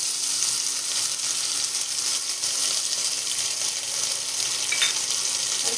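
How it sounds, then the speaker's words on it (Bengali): Chopped curry leaves fry in oil in a kadai, the same oil used earlier for frying chicken, giving a steady, close, bright hiss of sizzling with no pauses and no voices. "এবার এর মধ্যে কুচনো কারি পাতাটা দিয়ে দেবো।"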